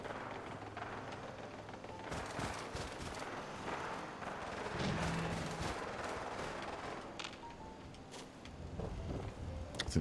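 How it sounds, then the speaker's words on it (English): Dense, continuous rumble of distant gunfire and explosions in a video game, a steady chaotic barrage with no clear individual shots standing out. "Oh, I can hear gunfire."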